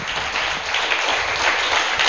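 A church congregation claps again, a dense, steady round of applause from many people lasting about two seconds.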